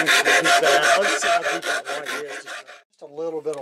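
A hand rasp files and smooths a wooden tomahawk handle in fast, even back-and-forth strokes, loud and close, stopping briefly before a few shorter strokes resume.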